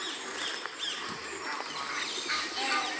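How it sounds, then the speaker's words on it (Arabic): Birds in a bird park in Düsseldorf, Germany, chirp and call in a dense, steady chorus of mixed high tweets, with faint background voices underneath. "تسمع غير الموسيقى ديال الطيور"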